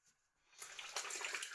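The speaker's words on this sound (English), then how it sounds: "Let's rinse it off with a flannel." Tap water runs over a razor being rinsed with a flannel at a sink, starting after a near-silent moment and then flowing steadily, soft and close.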